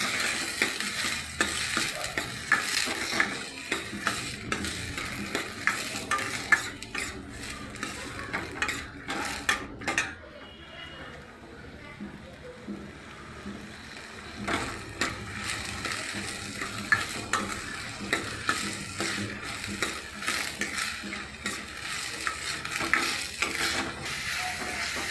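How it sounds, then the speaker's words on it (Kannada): Half a kilo of mashed hyacinth beans frying in two tablespoons of ghee over a low flame, with a steady soft sizzle and repeated scraping, clattering strokes of a spoon against the pan for the whole stretch. "ನಾನಿಲ್ಲಿ ಒಂದು ಬಾಣಲಿಗೆ 2 ಟೇಬಲ್ ಸ್ಪೂನ್ ತುಪ್ಪವನ್ನು ಹಾಕಿ ಅರ್ಧ kg ಹಿಸುಕಿದ ಅವರೆಬೇಳೆಯನ್ನು ಲೋ ಫ್ಲೇಮಲ್ಲಿ"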